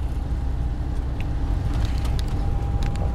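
A car fitted with a new T3 Techniques 25 mm sway bar drives along the road, giving a steady, loud low engine and road rumble with faint clicks and rattles inside the cabin.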